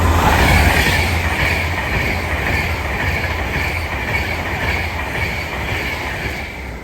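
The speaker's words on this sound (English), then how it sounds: "the next train is going to be another Avanti West Coast Class 390 Pendolino, going from London Euston to Birmingham New Street" An Avanti West Coast Class 390 Pendolino on a London Euston to Birmingham New Street run passes through Stechford station: a loud, steady rush of wheel and rail noise with a deep rumble, fading slightly toward the end.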